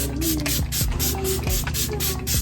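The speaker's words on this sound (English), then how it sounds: "And so you're gonna just close your eyes and spritz everywhere." Milani makeup setting spray is spritzed in a quick series of about seven short hissing bursts, close and evenly paced, over a faint background with music.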